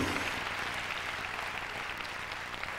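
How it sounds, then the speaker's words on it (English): A church congregation applauds steadily, a dense, even wash of many hands clapping at moderate volume throughout. "Come on, clap your hands and praise the name of the Lord if you believe it"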